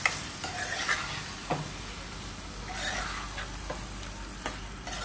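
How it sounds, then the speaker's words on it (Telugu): Prawn curry frying in a pan, a steady close sizzle with a few sharp ticks and clinks of stirring scattered through. "ఇది మంచిగా వేగుతుంది."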